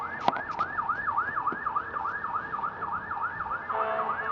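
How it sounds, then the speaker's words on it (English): A fire truck's wailing siren rises and falls repeatedly at a steady pace, loud and fairly close, with a couple of sharp clicks near the start and rumbling traffic beneath. "Oh, fire truck. Fire truck."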